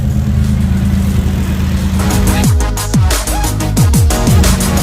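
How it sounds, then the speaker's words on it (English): Corbin's portable air compressor inflating Braden's 33-inch four-wheel-drive tyres at a Bribie Island camp: a loud, steady close-up motor drone, with several sharp downward pitch swoops in the second half. "So just airing up Braden's tyres now."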